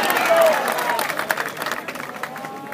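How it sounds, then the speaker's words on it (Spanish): A crowd claps loudly at an outdoor event in Santa Marta where the mayor hands out bicycles to school students. The applause is strongest at first and then thins into scattered claps as it fades. "¡Vamos, un fuerte aplauso!"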